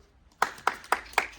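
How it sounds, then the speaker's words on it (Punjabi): Hands clapping: five sharp, evenly spaced claps close by, starting after a brief quiet moment. "ਤਾੜੀ"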